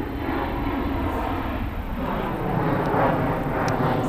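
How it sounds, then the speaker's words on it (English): An airplane passes overhead near a fishing bank, a broad continuous engine rumble that holds loud and steady and swells slightly toward the end, with some wind buffeting. "Say hi to the plane, I guess."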